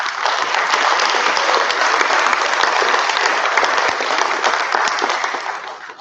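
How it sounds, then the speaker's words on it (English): A university anniversary lecture audience applauds in a full, sustained round of clapping that stays even and loud before tapering slightly at the very end. "And I think this deserves a clap in itself."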